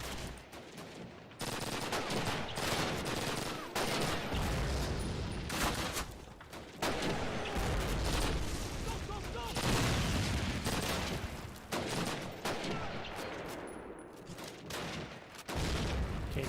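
Bursts of gunfire in a first-person shooter game in the style of Warzone, with repeated fusillades and automatic fire across the clip and speech now and then underneath.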